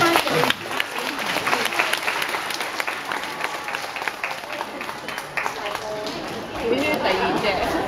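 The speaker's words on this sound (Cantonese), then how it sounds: "好，俾啲掌聲鼓勵下呢一班幼兒班" Sustained audience applause for a dance called Take It In, performed by a morning kindergarten class of very young children, a dense steady clapping that runs throughout with crowd chatter mixed in.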